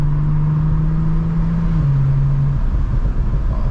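Audi B9 S4 with an 034 Motorsport tune cruising on a freshly paved road through trees, its engine holding a steady low drone with a slight drop in pitch partway through, constant road and wind noise underneath.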